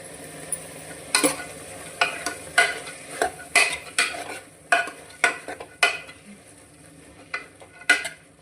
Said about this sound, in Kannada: ಇದನ್ನು ಆಯಿಲಲ್ಲಿ ಸ್ವಲ್ಪ ಹೊತ್ತು ಫ್ರೈ ಮಾಡಬೇಕು, ಆವಾಗ ಹಸಿ ವಾಸನೆ ಎಲ್ಲ ಹೋಗುತ್ತೆ.